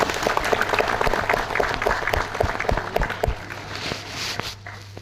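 Applause fills a seminar hall in Ahmedabad, many people clapping at once in a dense, lively burst that gradually tapers off into scattered claps over a faint steady hum.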